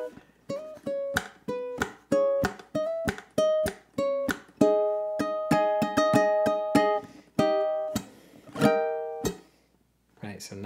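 A ukulele plucks a slow, lilting melody of bright, ringing single notes that build into fuller strummed chords near the end, close and clear with no talking.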